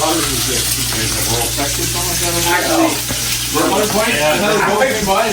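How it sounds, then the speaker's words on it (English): Loud, steady sizzling and crackling of fish frying in a pan at a lakeside camp, with a constant hissing texture throughout. "Into the frying pan."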